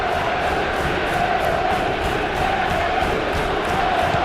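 Crowd noise in a Premier League football video game between Newcastle United and Manchester United forms a steady, dense roar of cheering that holds at an even level throughout.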